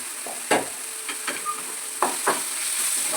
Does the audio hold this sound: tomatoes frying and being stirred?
yes